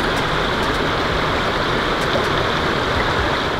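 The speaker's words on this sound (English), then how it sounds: "Let me pour this water out right there." Crawfish boil water poured out onto the ground beside a creek, a steady, loud, rushing splash of water lasting a few seconds with no talking.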